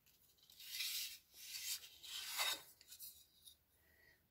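A pencil scratches across paper during a scrapbooking craft project, with several close, soft raspy strokes of varying length and no talk.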